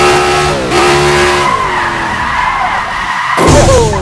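A Mercedes-AMG C63 drifts hard, its tires squealing loudly in long sustained screeches under a roaring, revving engine, close and intense with brief shifts in pitch as throttle changes.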